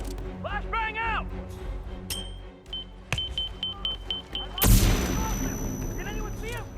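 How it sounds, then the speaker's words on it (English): A flashbang grenade goes off in the video game Hitman 3 with a sudden loud, close blast followed by a sustained high ringing tone, after a series of regular beeps and amid voices talking before and after. "Flashbang out!"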